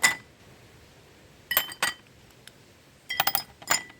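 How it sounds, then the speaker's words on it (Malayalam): Ice cubes dropped into a drinking glass for a mango leaf drink: bright glassy clinks, one at the start, a pair soon after, then a quick cluster of rattling clinks, close and fairly quiet. "ഇനി നമ്മൾക്ക് ഗ്ലാസ്സിലോട്ട് ഐസ് ക്യൂബ്സ് ഇട്ട് കൊടുക്കാം കേട്ടോ"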